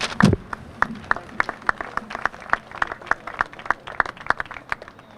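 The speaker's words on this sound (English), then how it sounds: "let's give our local politicians a round of applause" A modest crowd at the Indian Point shutdown ceremony claps for local politicians, fairly sparse and distinct individual claps forming an uneven, moderate round of applause that continues steadily throughout.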